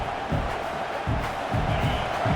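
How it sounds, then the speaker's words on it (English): A packed stadium crowd at a night college football game against Clemson roars in a dense, continuous wall of noise with swelling shouts and cheers, loud and close throughout. "This crowd going to try to make life miserable for these guys"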